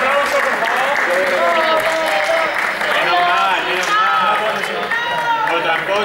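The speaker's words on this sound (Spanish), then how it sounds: "¡Un aplauso, por favor!" Audience applause at a prize ceremony for a team game event, steady clapping filling the whole stretch with overlapping voices and cheers mixed in throughout.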